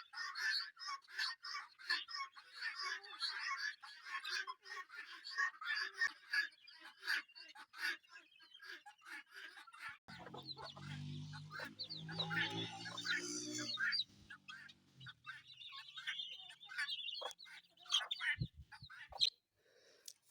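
Chickens, guinea fowls and turkeys at feeding time on an African farm cluck and chatter continuously at moderate distance, with a low murmuring burst of sound midway.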